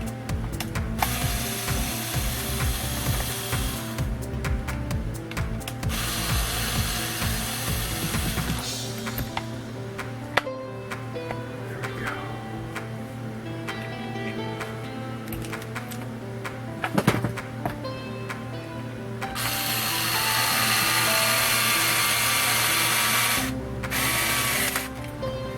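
Screws are driven out of a Traxxas Slash 2wd LCG chassis with a powered tool that whirs steadily in long stretches, broken by short stops and ratcheting clicks, close by and with no voices.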